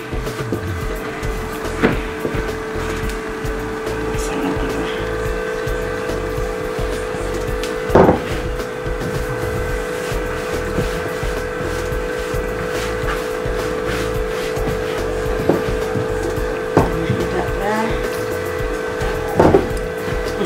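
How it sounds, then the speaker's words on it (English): Kitchen extractor fan running as a steady hum with a constant tone, joined by a few scattered knocks and clatters of kitchen work nearby. "sorry guys if you hear any noise in the background, it's my extractor fan in the kitchen."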